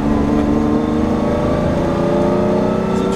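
A BMW S50 engine in a car revs hard in second gear near 5000 rpm at around 100 km/h, a loud continuous droning roar with steady pitch throughout.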